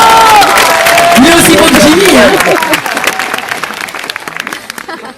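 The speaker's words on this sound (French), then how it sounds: "vous pouvez l'applaudir" A crowd at a limbo show applauds a volunteer with loud, dense clapping and cheers that gradually thin out, while a presenter speaks French over it.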